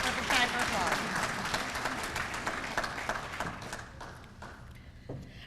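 Audience applause at a county government address, a dense wash of many clapping hands that slowly thins out toward the end, with a few scattered claps and some faint voices left behind.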